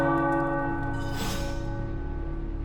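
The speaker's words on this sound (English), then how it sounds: "The tower bells are ringing." Tower bells toll in the video game Midnight Suns, a single resonant strike swelling over a sustained, ringing hum that slowly fades out.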